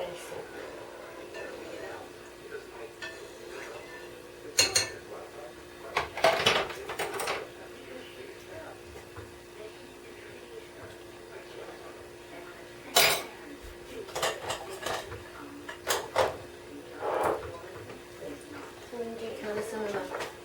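Dishes and cutlery clatter in a few sharp, scattered bursts as a kitchen is tidied while cooking creamy vegetable soup, with quiet stretches between the clinks and knocks.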